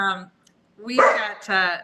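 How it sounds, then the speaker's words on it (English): Several dogs barking at a dog park behind a hotel, sharp repeated barks at moderate distance with a brief pause between bursts. "Oh, now the other doggies are going to bark."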